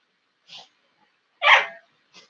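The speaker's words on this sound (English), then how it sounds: "my dogs were playing too rough" Dogs playing rough indoors produce three separate short, gruff huffs or barks, the middle one loudest, with silence between them.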